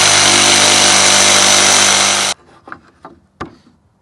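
A power jigsaw cuts steadily through a pallet wood board with a loud, continuous buzzing rasp, then stops abruptly, followed by a few scattered wooden knocks and clicks.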